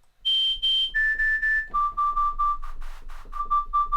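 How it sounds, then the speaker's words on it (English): A resonating sine tone from a Vital synth preset mixed with white noise plays repeated pulsed notes that step down in pitch across three levels. The notes are clean and steady with a soft hiss beneath them, and no voice is heard. "So it's resonating, making a little sine wave, but the white noise gives it, or makes it sound a little cooler."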